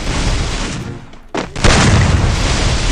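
A loud grenade explosion in a Free Fire-style battle royale game booms close and heavy, following a dip and a short sharp burst, with the roar continuing to the end.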